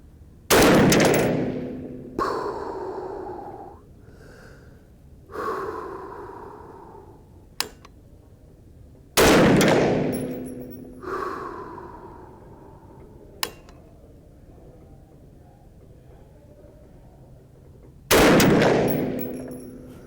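Rifle shots from a .350 Legend loaded with 16.8 grains of H110 powder at an outdoor range. Four loud, sharp reports come several seconds apart, each trailing off into a brief echo, with a few faint ticks in between.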